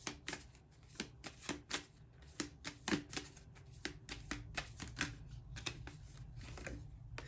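Oracle cards shuffled by hand in a quiet room, a run of crisp riffling bursts in uneven rhythm, close and soft, with no voices.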